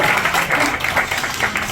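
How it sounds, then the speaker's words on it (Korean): Dense applause from a crowd fills the whole stretch, a steady wash of many hands clapping at once. "박수 주세요."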